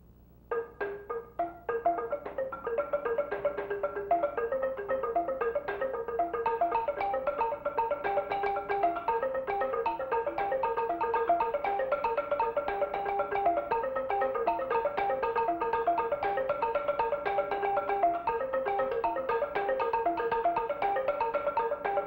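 An East African xylophone plays Sematimba Nichikwabanga, built on an 18-note row, as dense interlocking wooden notes. A few opening strikes lead into a continuous rapid pattern that holds at a steady volume.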